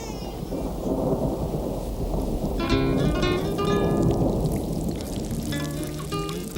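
Heavy mountain rain pours steadily with a dense, constant roar, with scattered drips and splashes and faint tonal sounds mixed in partway through, loud and continuous with no speech.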